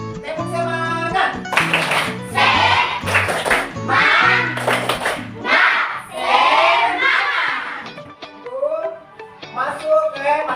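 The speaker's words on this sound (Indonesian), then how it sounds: "sebelum kita mulai belajar, kita tepuk semangat dulu" A school class performs a rhythmic spirit clap led by a teacher, with bursts of patterned claps mixed with chanting children's voices and sung call-and-response phrases.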